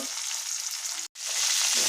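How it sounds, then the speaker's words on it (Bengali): Cauliflower and carrot frying in a pan give a steady, close sizzle that drops out briefly for a moment, then returns stronger and fuller. "এদিকে সবজিগুলো ফ্রাই করে নিচ্ছি।"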